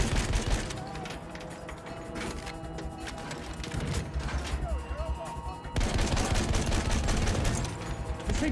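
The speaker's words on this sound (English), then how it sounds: "Enemy machine gun sighted!" Machine gun fire in Battlefield 1 rattles through a dense, noisy battle mix, with sustained bursts that swell louder in the final seconds under occasional voices.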